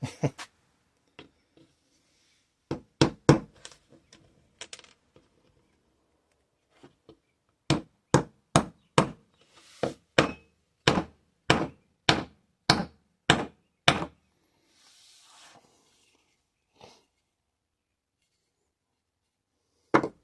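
Homemade wooden mallet built from scrap wood with an epoxied dowel handle strikes material in sharp knocks, a few scattered hits then a steady run of about a dozen loud, evenly spaced blows, close and alone with no talk.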